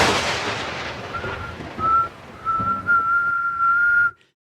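Jennifer Hudson whistles a thin, piercing high note into a microphone, starting as a few short bursts after a noisy start and then holding a long steady tone before cutting off abruptly.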